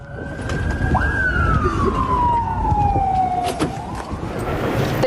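A wailing ambulance siren sweeps up and down, close and loud, over a busy background murmur of traffic and crowd in Marash.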